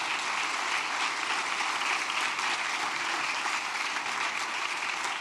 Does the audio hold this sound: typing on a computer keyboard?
no